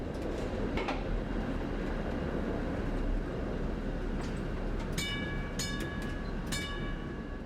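A Brussels tram on a fast line laid over a former electrified standard-gauge railway, a steady loud rolling rumble throughout, joined near the end by repeated high squealing tones from the wheels or brakes.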